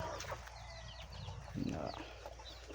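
A brooding hen on a small backyard chicken farm gives soft, low clucks and murmurs, faint and close, with a few bird chirps in the background.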